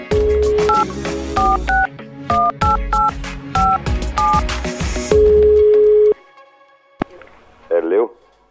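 A run of telephone keypad dialing tones starts a prank phone call, a quick sequence of loud, clear beeps in an irregular rhythm, followed by a short tone and a brief burst of ringing or line noise.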